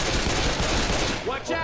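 Rapid automatic gunfire in Left 4 Dead 2, a loud, continuous burst of shots that trails off near the end.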